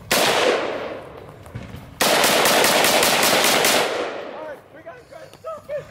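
Rapid bursts of AK rifle gunfire on a farm range, loud and close, with a sustained automatic string in the middle of the clip and scattered single shots tapering off at the end.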